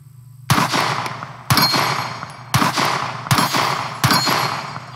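A Sig Sauer P365 X-Macro pistol is fired at an outdoor range. Five sharp, loud shots come at roughly one-second intervals, each leaving a short ringing echo, with no talking.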